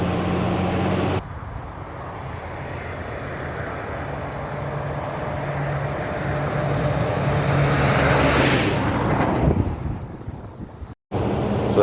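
A Mercedes-Benz Unimog U435 truck drives along with a steady low engine drone under heavy wind rush, rising slightly as it picks up speed, then cuts off briefly near the end.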